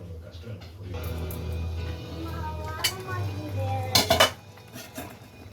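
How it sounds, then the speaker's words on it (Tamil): A lid clatters onto a frying pan while goat spleen cooks, with a few sharp metallic clinks and knocks over the low sizzle and hum of the kitchen stove, and a voice speaking nearby. "அப்படியே போட்டுட்டு அப்படியே நான் மூடி வச்சுறேன்"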